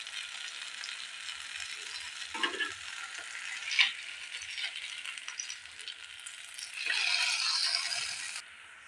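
Snack pieces frying in oil in a pan: a soft, steady sizzle with light stirring scrapes and small clinks, quiet and close, swelling briefly near the end.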